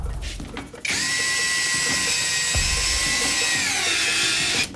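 ROKODIL multitool driver spinning a screw at torque setting 22, a loud steady high motor whine running for about four seconds after a brief start, then cutting off, close by with no talk.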